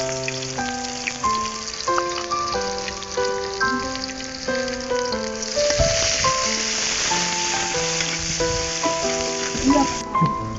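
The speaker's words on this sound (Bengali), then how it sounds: "পেঁয়াজটা ভাজা ভাজা হয়ে গেছে।" Chopped onions fry in oil left over from frying grass carp, giving a steady crackling sizzle that runs throughout beneath a prominent melodic music track.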